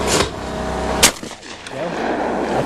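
A shotgun fired at a high-house skeet clay target, one sharp loud blast near the start, then a second sharp crack about a second later, followed by a fading outdoor echo and rumble.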